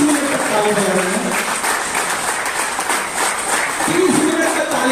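Continuous clapping from an audience at an MLM leadership seminar, a dense steady wash of hand claps that runs throughout, with voices speaking over it.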